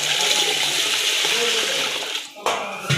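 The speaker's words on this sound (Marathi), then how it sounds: "तर साबुदाणा आधी आपण धुवून घेणार आहे।" Water gushes into a container of sago pearls for washing, a loud, continuous rushing pour that cuts off abruptly, followed by a brief splash and a short burst of running water.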